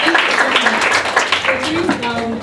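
An audience at an international school event applauds a student poet, with a mix of clapping and overlapping voices throughout, fairly loud and close.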